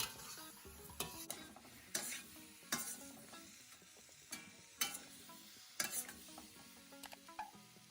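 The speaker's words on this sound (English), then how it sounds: "I'll add in my cauliflower and broccoli and stir everything together." Cauliflower and broccoli stirred in a hot pan, with repeated sharp scrapes and clacks of a utensil against the pan over a constant sizzle, in an uneven rhythm of about eight strokes.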